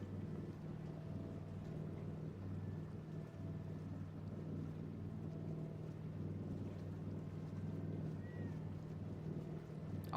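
Steady low motorboat engine drone from a boat driven in a wasteland video game, continuous and fairly loud with wind-like noise over it and no talk.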